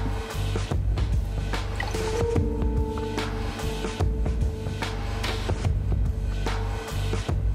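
Aloe vera juice pours into a glass while a cocktail is mixed at a hotel terrasse bar, a soft liquid trickle and fill amid light clinks and background noise.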